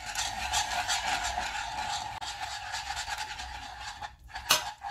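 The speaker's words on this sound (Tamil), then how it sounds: "இப்போ மாவு சேர்த்து கலரலாம்." Rice flour is stirred into boiling water with ghee in a pot for soft rice roti dough, giving a close, rhythmic scraping and rubbing of a utensil against the pot, with no speech.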